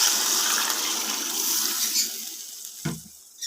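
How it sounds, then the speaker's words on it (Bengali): Water pours in a loud gushing stream into a pan of egg curry to make the gravy, running steadily up close before stopping with a short thud and a fading trickle. "এখন আমি ঝোলের জন্য জল দিয়ে দেব।"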